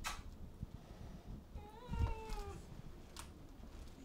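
A domestic cat in a small home kitchen gives one drawn-out, wavering meow near the middle, fairly close but quiet against faint room noise and clatter.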